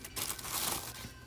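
A plastic bag holding sealed boxes of Pokémon cards crinkles and rustles as it is handled close by, a steady, bright crackling that lasts over a second with no speech.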